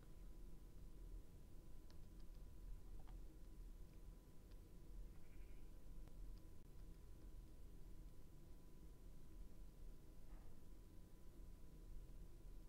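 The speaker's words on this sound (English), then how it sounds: "All those sheep have been dyed for no reason." Sheep bleating in the distance, a few faint, scattered calls over a low, steady background hiss, with no one speaking.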